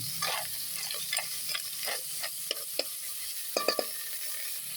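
Tinola stirred in a hot pan, giving a steady sizzle broken by a series of scraping, clinking strokes of the utensil.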